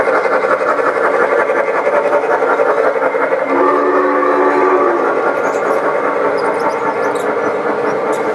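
A large model train runs on an indoor layout with a loud, continuous rolling rumble of wheels on track. A sustained whistle-like squeal rises partway through.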